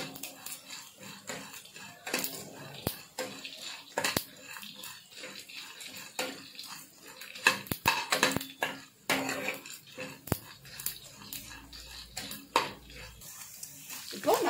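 Dry spices for bisi bele bath masala roast in a pan over low heat, with a metal spatula scraping and clinking against the pan in irregular strokes and faint talk in the background.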